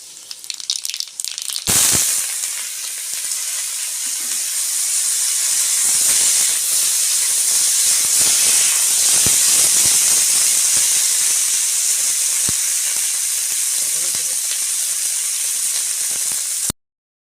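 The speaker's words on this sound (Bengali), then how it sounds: "কড়াই গরম হয়ে গেছে, আমি এখন সরষের তেল দিয়ে দেবো। ফোড়নে কালো জিরে দিয়ে দেবো।" Black cumin seeds dropped into hot mustard oil in a heated wok set off a loud, continuous hiss and sizzle that holds steady for many seconds after a brief clatter at the start, heard close up without speech.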